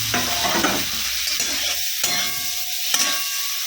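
Paneer fries lightly in butter, with a gentle sizzle and several stirring scrapes and knocks in the pan, close and fairly clear, with no voices.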